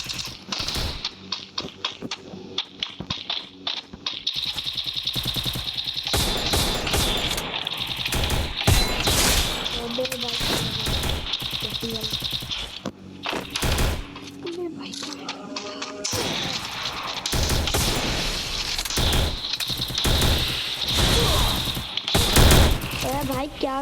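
Rapid bursts of video game gunfire from a weapon, loud and dense with repeated volleys throughout, mixed with game effects while people talk excitedly over it.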